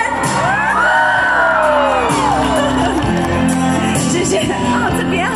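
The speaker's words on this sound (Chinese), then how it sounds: "尖叫声哎！ 再一次尖叫声！" A concert crowd at a Mandopop show screams, whoops and cheers loudly over the live music and singing, a dense and sustained roar of voices.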